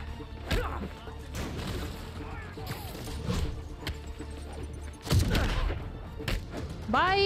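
Gunfire and impacts during a Marvel's Spider-Man side mission, with scattered sharp cracks and heavy hits over busy game ambience and a couple of louder bursts near the end.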